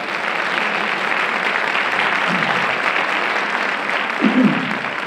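Steady applause from a high school holiday pops concert audience fills the whole stretch, a dense continuous patter of clapping with no pauses.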